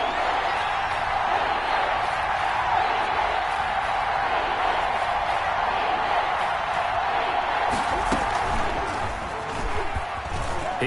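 Stadium crowd in a PS4 American football game ahead of a big third down, a steady, dense roar of cheering that holds evenly throughout, with a commentator's voice faintly under it.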